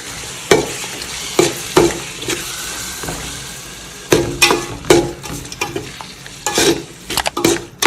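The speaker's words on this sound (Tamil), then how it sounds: "இப்போ அடுப்பை மீடியம் ஃப்ளேமில் வச்சு எல்லா மசாலாவையும் நல்லா கலரி விட்டுப்போம்" Masala with curd and rock salt being stirred over a medium flame: a spoon clanks and scrapes repeatedly against the pan in irregular bursts over a low, steady sizzle, close and fairly loud.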